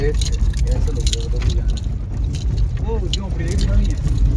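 A car travels along a Himachal mountain road, its low, steady engine and road rumble running throughout beneath continuous close conversation.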